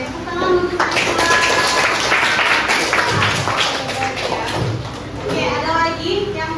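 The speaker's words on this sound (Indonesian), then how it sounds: "tepuk tangan untuk mereka" A classroom of students claps for classmates after a presentation, a dense burst of hand claps mixed with children's voices and chatter throughout.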